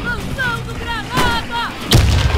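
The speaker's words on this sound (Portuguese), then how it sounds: "Tem uma granada lá, ó." Grenade in the Warface shooter game during a capture match, one sharp explosive thump near the two second mark amid other game noise.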